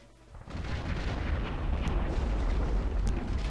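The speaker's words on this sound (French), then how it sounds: "mes tirs ne font rien à la tourelle" Sustained gunfire aimed at a floating turret in the video game Conker's Bad Fur Day: a dense, loud, continuous roar of shots and booms that swells in after a quiet start and holds steady throughout, with no talking.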